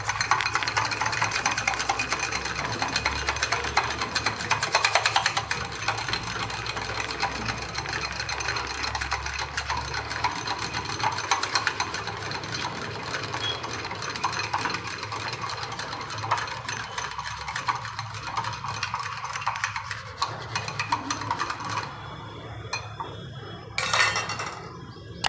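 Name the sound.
whisking curd (yogurt) with sugar using a spoon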